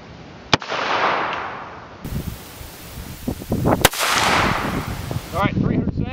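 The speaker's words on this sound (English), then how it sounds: "first up, we're shooting the 25 Remington. This is 117 grain soft point at 10 feet." Rifle shots from a Remington Model 8/81 chambered in 25 Remington, firing 117 grain soft point rounds at 10 feet: a few sharp loud cracks with broad blasts and rustling handling noise between them.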